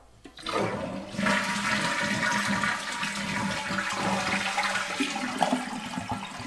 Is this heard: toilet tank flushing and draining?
yes